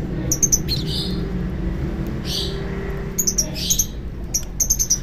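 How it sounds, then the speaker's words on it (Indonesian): Several caged lovebirds let out sharp, high chirps in quick clusters, pausing between bursts over a low steady background hum. "di depan saya ini ada beberapa burung lovebird"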